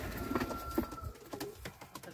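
Yellow Czech pigeons coo in a newly stocked loft, two or three soft, low coos close by amid faint rustling and background noise.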